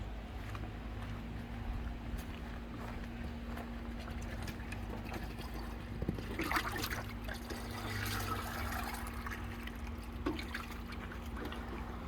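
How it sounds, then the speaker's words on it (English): Water poured by hand from a container onto the base of fig trees, a soft continuous trickle and splash heard close and quiet throughout, with a brief louder splash midway. "I'm watering 3 trees, right?"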